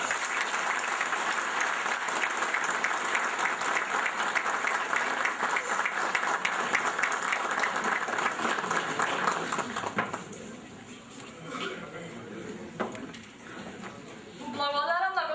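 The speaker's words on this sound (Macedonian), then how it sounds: "авторот од се срце со аплауз да го наградиме" An audience at a book promotion applauds the author with loud, sustained clapping that fills the first ten seconds, then thins into scattered claps and room noise while a voice begins speaking near the end.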